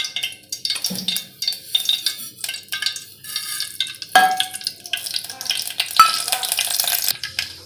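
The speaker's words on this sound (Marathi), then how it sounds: "मोरी आपली तडतडलेली आहे जिरी आणि मोहरी" Cumin and mustard seeds crackling in hot oil for a tempering: sharp sporadic pops and a bright sizzle, close up, with a few utensil clinks and no talk.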